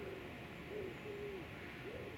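Pigeons coo softly on a quiet evening by the River Swale: a few low, gentle calls, faint and distant, over a steady outdoor hush with no voices.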